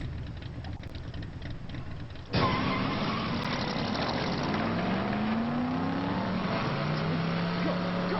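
A car engine catches suddenly after a few seconds of low background hum, then settles into a loud, close roar with a rising whine as it revs.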